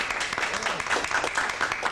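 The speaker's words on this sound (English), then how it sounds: "give them a round of applause" Audience applause after a Shakespeare scene in an Elizabethan period acting class, a steady burst of clapping from a small group, close and fairly full throughout.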